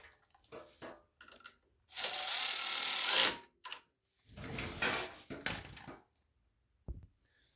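A ratchet wrench clicks rapidly in two bursts, tightening a bolt while a drive belt is fitted on a Gilson rear-tine garden tiller, close-up, with short gaps and light handling noises between.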